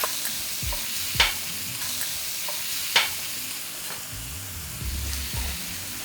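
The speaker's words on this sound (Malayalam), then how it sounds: "വറുത്ത് മാറ്റി വെച്ച കൊഞ്ചിനെ നമ്മളിതിലോട്ട് തന്നെ" Fried prawns are tipped back into a pan of sizzling ginger and garlic and stirred, a steady close sizzle broken by a few sharp scraping clacks of the spoon against the pan.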